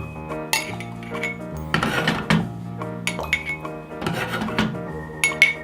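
Green grape candy drink is handled in glass cups: clinks and rubbing of glassware and utensils in several short bursts, close and clear, with no talking.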